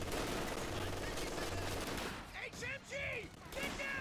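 Machine gun fire in Company of Heroes 2, a steady rattling stream of distant-sounding shots beneath layered battlefield noise, with whistling tones near the end.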